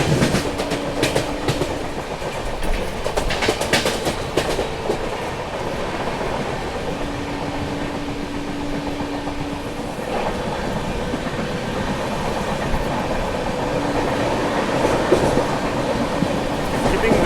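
The Goa Rajdhani Express runs through Virar station without stopping alongside an AC local, producing a loud continuous rumble with clattering wheels and rail noise heard from on board, and a brief high squeal rising now and then.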